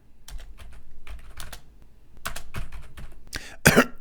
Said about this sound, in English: Did you hear some coughing and some typing on the keyboard?